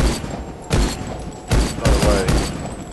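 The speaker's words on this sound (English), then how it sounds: "Unlimited bullets on dual pistols." Dual pistols firing in the video game Rise of the Triad, with loud, close gunshot bursts landing a few times in quick succession over a steady game background.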